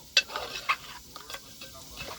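A village-style green chili paste is stirred into chicken frying in a pot over a wood-fired clay stove, with a few sharp scraping clicks of the spoon over a soft sizzle.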